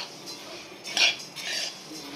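Coriander seeds are dry-roasted without oil in a hot kadhai. Soft scrapes and clinks of a stirring utensil against the metal pan come in a few short bursts, with no talking.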